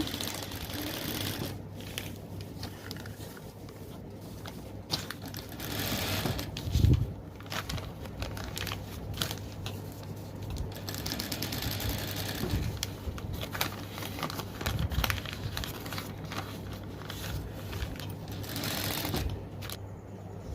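Sewing machine stitching a petticoat at a tailoring class, giving a steady mechanical whirring clatter throughout at moderate level, with some brief handling noises.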